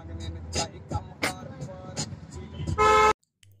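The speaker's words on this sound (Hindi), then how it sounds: "आपने देख ही लिया है कि कितना शोर हो रहा है गाड़ी में" Cabin noise inside a car on the road from Bhopal toward Ujjain, a steady rumble with clattering bumps and a loud burst of horn-like tone near the end before it cuts out.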